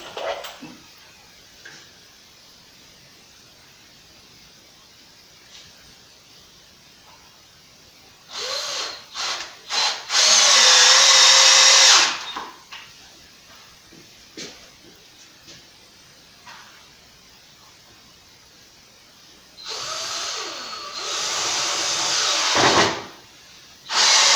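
A power drill drives Torx-head Deckmate screws into wood while a concrete header board is framed, with two loud whirring bursts, one in the middle and one near the end, separated by quiet stretches with faint breathing and handling noise.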